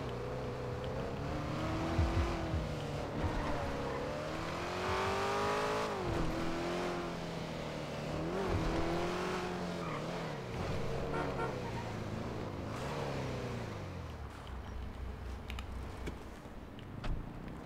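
A video game car engine drones steadily for the whole stretch, revving up and down with pitch sweeps and brief horn-like toots, moderately loud with occasional voices in the background.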